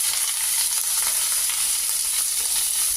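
Mustard seeds and curry leaves fry in hot oil, giving a loud steady sizzle and hiss with faint crackles throughout, with no voices over it.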